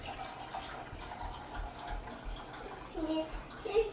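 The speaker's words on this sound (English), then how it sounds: "And then I'm going to pour my water." Filtered reverse-osmosis water poured for drip coffee makes a soft, steady close trickle that rises faintly in pitch as the vessel fills near the end.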